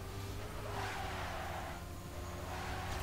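A racing car engine in the Trackmania Stadium video game runs steadily and faintly as the car drifts after building speed, with a soft hiss of tire skid rising and fading in the middle.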